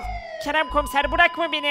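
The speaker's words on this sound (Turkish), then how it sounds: "Şu siren seslerini sustur doktor." A siren wails in a Minecraft hospital scene during an emergency, its repeating tone sounding under frantic dialogue as a voice pleads over it.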